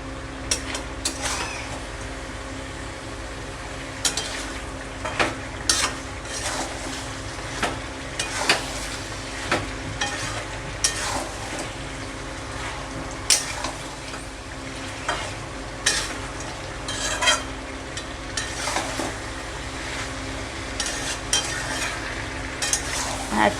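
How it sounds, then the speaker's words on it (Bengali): Spices for chicken curry sizzle steadily in a pan while a spoon stirs them, with repeated scraping and clinking strokes of the utensil over a constant frying hiss. "এবার আমি ভালো করে আরেকটু কষে নেব।"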